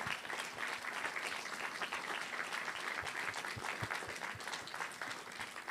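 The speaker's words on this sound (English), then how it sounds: "I want to give a final huge round of applause to our candidates for their participation tonight." A room full of people at a Framingham city council candidates' climate forum claps steadily for several seconds, a dense even patter without voices.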